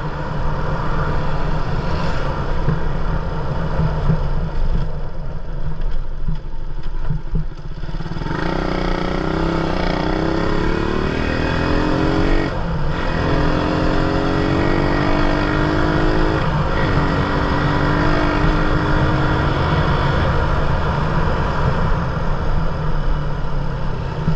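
An old-generation Rusi Raider 150 motorcycle engine drones loudly and continuously while riding, and its pitch sweeps up and down as it accelerates and shifts, with wind noise throughout.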